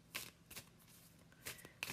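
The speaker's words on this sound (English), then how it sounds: "Every day I'm shuffling." Tarot cards being shuffled by hand in several quick, crisp riffling bursts with short pauses between, soft and close in a quiet room.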